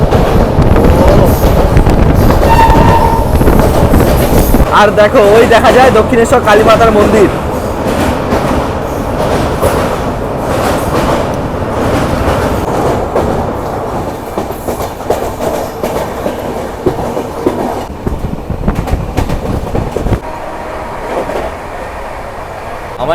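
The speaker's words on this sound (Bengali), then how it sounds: "মানে তার নিজস্ব স্পিডেই ছুটছে আমাদের ট্রেন, মানে দার্জিলিং মেল" The Darjeeling Mail passenger train runs at speed past Dakshineswar, a loud, constant rumble and rattle of the carriages with wind buffeting, while a person talks over it.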